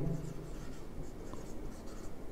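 Marker or chalk writing on a board during a classroom lesson, a continuous soft scratchy stroking sound heard close over faint room noise.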